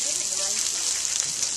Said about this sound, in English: Let's just go out and play in the rain.